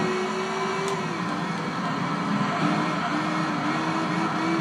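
A race car engine in Gran Turismo 3 on the PlayStation 2 drones loud and steady, its pitch holding and shifting slightly as it runs with no talk over it.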